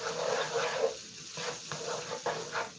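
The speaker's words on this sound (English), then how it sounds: "Give that a stir. Get that garlic all up in there." Garlic sizzling and frying in a pan as it is stirred, a steady close hiss with uneven scraping bursts and short pauses, no voices.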